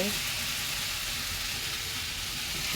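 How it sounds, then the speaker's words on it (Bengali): Potato bhaji frying in a pan gives off a loud, steady hiss and sizzle, close up and constant throughout. "এই যে আমি এই পাশে আলু ভাজি করতেছি"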